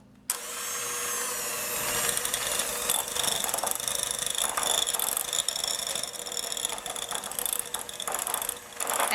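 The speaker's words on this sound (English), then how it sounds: "you could do this by hand or with a stand mixer or a hand mixer like I have here" A hand mixer creams cream cheese for cinnamon roll frosting, a loud, steady mechanical whir and rattle that starts abruptly and runs continuously at close range with no talking.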